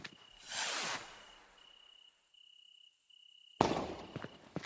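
A firework rocket in the video game Fireworks Mania gives a short whooshing launch, a lull under a thin high whistle, then a sharp burst with crackling pops close by and no talk.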